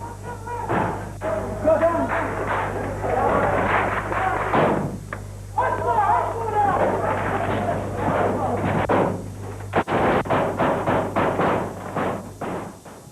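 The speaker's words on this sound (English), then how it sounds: "At another parliament building today, not just shouts, but gunfire." Gunfire erupts at the parliament building in Azerbaijan during 1992 political unrest, with scattered sharp shots and thuds over agitated voices and shouting, one loud crack standing out near the end.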